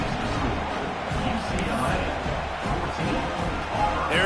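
Football stadium crowd murmuring steadily after a score pushes the lead to 14-0, a broad, subdued roar with no clear cheering peaks, heard beneath a broadcast announcer's play-by-play.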